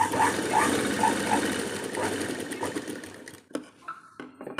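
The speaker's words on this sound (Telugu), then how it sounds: "పొడవంతా టూ పాయింట్ ఫైవ్ మళ్ళీ ఇంకో స్టిచ్ చేయండి" A sewing machine stitches a blouse, its needle running in a fast steady mechanical whir up close, then stopping and starting in short bursts near the end.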